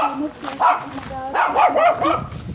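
Outdoors along a rural path by vineyards in Ukraine, a dog barks several times and yips at moderate distance, mixed in with a person talking over it.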